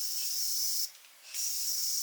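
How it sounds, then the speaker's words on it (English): Morphe makeup setting spray is misted close by in two steady hissing bursts separated by a short pause, with no talking. "I'm gonna use my Morphe setting spray."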